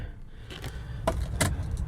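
Two car keys for a 2012 Chrysler Town and Country jangle close by in a few quick metallic bursts over a low background rumble.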